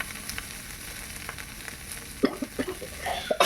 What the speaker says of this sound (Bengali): পনিরটাকেও এর মধ্যে নাড়াচাড়া করে ভেজে নেব।